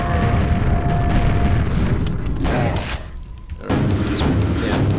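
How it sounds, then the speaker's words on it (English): A grenade bursts in the video game Quake with a deep boom, followed by a brief lull and then renewed rumbling game noise. The sounds are loud and heavy, with no talk over them. "I'm going to try and pop up a grenade up there."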